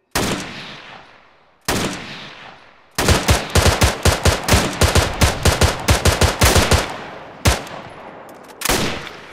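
Gunfire in Arma 3, loud and close: a couple of single heavy shots with echoing tails, then a long run of rapid, evenly spaced shots, followed by a few more spaced single shots.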